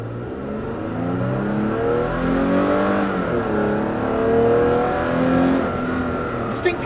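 Engine of a 2016 Toyota Tacoma pickup, a variation of the Camry and Lexus IS 300 engine, pulling steadily under acceleration with a rising and falling drone heard from inside the cab.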